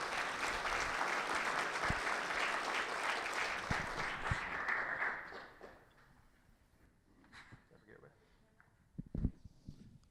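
Applause from an audience at a West Virginia delegates' meetup, loud and sustained for about five seconds before fading to scattered claps and room noise.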